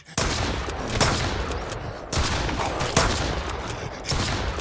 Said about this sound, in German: Wie viele Schüsse waren das?